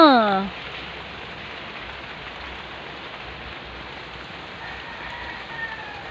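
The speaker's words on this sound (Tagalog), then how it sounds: "nag-ulan na talaga niya, guys. Unang ulan yan dito guys sa Cavite." The first rain in Cavite falls steadily, a dense even hiss of raindrops on surfaces filling the scene, with a brief voice at the very start.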